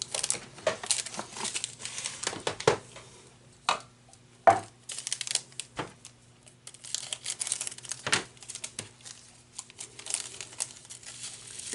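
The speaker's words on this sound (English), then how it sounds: "And then I'm going to open this baggie." A small plastic baggie of diamond painting drills is handled and opened up close, giving irregular crinkles, rustles and sharp plastic snaps over a quiet hum, with no talking.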